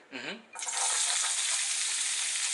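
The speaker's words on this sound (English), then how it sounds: "gotta love that sizzle" After a brief voice, celery and shallots hit a hot pan and a loud, steady sizzle takes over, a continuous crackling hiss up close.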